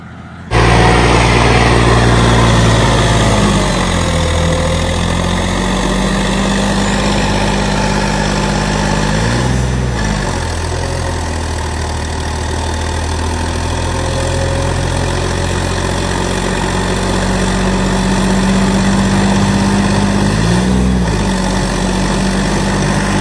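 John Deere 5310 tractor with an upgraded engine, revving under load to test whether it holds RPM: a loud, steady diesel drone close by, with brief dips and rises in pitch around the middle and near the end.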